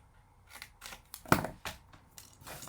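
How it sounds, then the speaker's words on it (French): Scissors snip through paper while making a scrapbook advent calendar box, a few soft cuts with one sharper, louder snip in the middle, close and quiet with no talking. "on coupe comme ceci"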